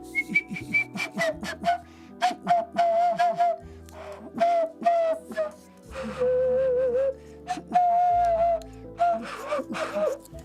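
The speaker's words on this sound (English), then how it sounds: "I'm still whistling." Melodic whistling with wavering, sustained tones over a droning instrumental background, fairly loud and close, no speech.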